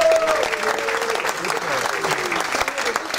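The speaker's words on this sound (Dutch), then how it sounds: "En een applaus voor die mensen." An audience at a village culture café evening applauds in a sustained, even burst of clapping, with faint voices and cheers mixed into the crowd noise.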